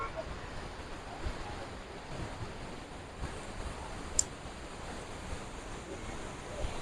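A waterfall on the Bhagirathi river near Uttarkashi gives off a steady, soft wash of rushing water from a distance. A few faint clicks and gusts of wind sit on top of the constant hiss.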